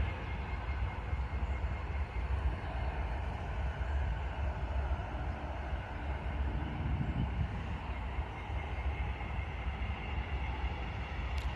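Railroad locomotives rolling slowly along the track in a rail yard on an overcast day, a steady low rumble with a continuous drone that holds at an even level throughout, moderately distant, with no voices.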